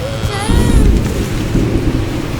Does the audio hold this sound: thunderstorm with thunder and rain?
yes